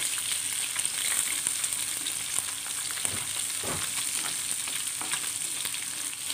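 Onions frying in hot oil in a kadai make a steady close sizzle with soft stirring scrapes and a high, hissing edge.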